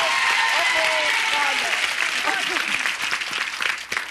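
A studio audience at a 1983 Family Feud taping applauds, a loud, dense burst of clapping that goes on steadily for four seconds while cheers and voices carry over it, then begins to fade.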